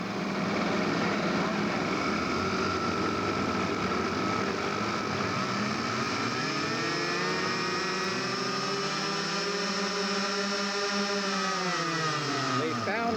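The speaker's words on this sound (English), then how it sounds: "the engines are running." Scale model aircraft engines, on a model B-17 bomber at a scale aircraft show, run steadily and loud, their pitch sliding up and down as they are throttled, with a voice talking over them.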